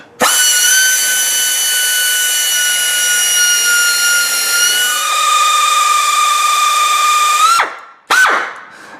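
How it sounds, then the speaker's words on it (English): A power drill bores through a thick spot in steel while a long-arm crossmember goes onto a Jeep WJ, screaming loud and steady with a high whine that drops in pitch midway, then a brief stop and a restart near the end. "we drilled right through a thick spot too"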